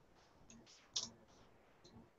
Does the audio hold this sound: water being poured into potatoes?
no